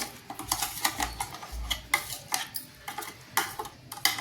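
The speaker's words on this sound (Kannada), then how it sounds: "ಚಮಚಲಿಂತ ಸ್ವಲ್ಪ ಮಿಕ್ಸ್ ಮಾಡಿ" A spoon stirs mashed sapota with milk in a bowl, making a steady run of light metallic clinks and scrapes in an irregular rhythm, close and fairly quiet, with no talking.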